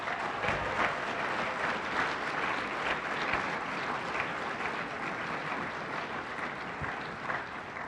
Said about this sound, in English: please give our soil and water districts a round of applause